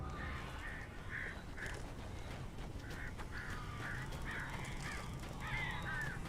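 Crows in the video game Alan Wake give repeated harsh caws, several short bursts spread over a low rumbling ambient background.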